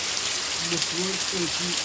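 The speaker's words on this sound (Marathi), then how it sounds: "अतिशय जोरदार पाऊस" Heavy rain falls in the Maan taluka area as a steady, dense hiss across the whole brief moment, while a voice speaks over it.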